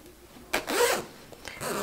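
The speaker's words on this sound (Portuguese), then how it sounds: "Se o zíper estiver torto, você refila e vamos colocar o cursor." Zipper slider being fitted onto the zipper of a handmade fabric gym bag: two short raspy zip bursts, one near the start and one toward the end, close and fairly quiet with no talk.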